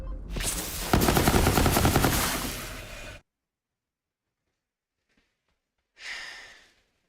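Explosive Torque gunfire in the Borderlands 3 video game bursts loud and rapid for about three seconds, then silence, followed by a shorter second blast.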